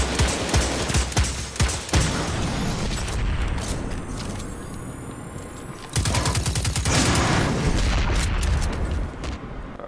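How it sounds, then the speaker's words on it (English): Rapid bursts of gunfire from a Destiny 2 strike, loud and close, shots stacking into fusillades with booming impacts as enemies' gas tanks are hit, a short pause near two seconds and a heavier barrage resuming toward the end. "I'm gonna shoot their gas tanks in the back."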